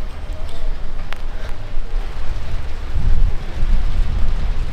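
Rain falls outdoors in a steady, hissing wash, fairly loud and close, with rumbling low noise swelling toward the end; no one speaks.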